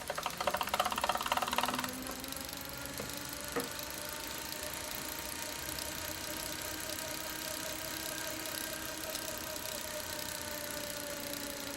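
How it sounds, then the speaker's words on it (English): A small electric motor runs on battery power with a steady, faint whine that settles after a brief louder start, accompanied by a light ticking, close and alone. "by connecting a battery to the motor, I can show you that this is indeed an electric motor."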